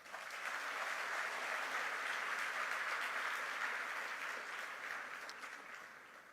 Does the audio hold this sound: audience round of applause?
yes